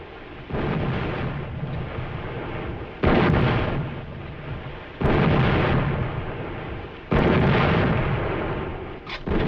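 Naval artillery in a 1942 war film battle scene, with heavy booming blasts and explosions that land in three or four big surges roughly every three seconds, each followed by a long rumbling roll.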